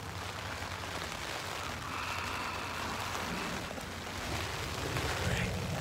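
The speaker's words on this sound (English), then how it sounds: "right now it's just looking like rain" Steady rain falls outside a tent under a dark stormy sky, a continuous broadband hiss with soft patter that swells slightly toward the end, with no clear voices.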